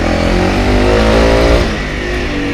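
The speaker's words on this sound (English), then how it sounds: "The bike easily climbs through everything." A Honda CRF300L dual-sport motorcycle climbing through brush, its single-cylinder engine loud and close with a steady throaty drone that rises and falls slightly under load.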